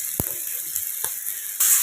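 Turmeric powder added to a pan for ghugni, stirred with a few scraping strokes over a steady close sizzle, a louder hiss rising at the end.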